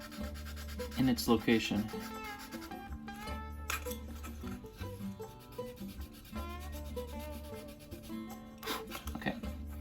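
Sandpaper scuffs the body tubing of an Estes SuperNova model rocket in short, rasping strokes with irregular pauses and a few light handling knocks, close up, with a brief spoken phrase.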